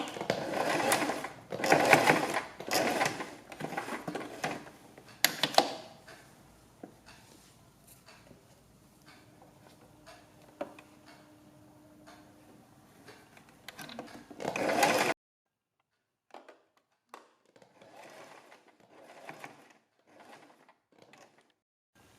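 Sewing machine stitching potli buttons into a kurti neckline, working in short bursts of rapid whirring broken by pauses and quiet handling noises.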